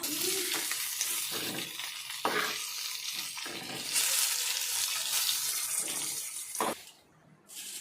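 Sea fish frying in a pan on a stovetop gives a steady close sizzle, broken by soft scraping stirs and a brief drop near the end.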